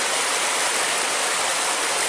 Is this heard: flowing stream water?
yes